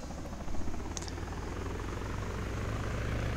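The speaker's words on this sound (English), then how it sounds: "the helicopter will fly" Steady low rotor thrum of a helicopter in Arma 3 with a faint engine whine, moderately distant, continuous throughout.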